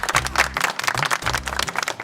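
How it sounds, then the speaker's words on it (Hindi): Studio audience claps through a comedy TV show scene, a brief burst of applause heard alone at close range with steady rhythmic hand claps. "तालियां"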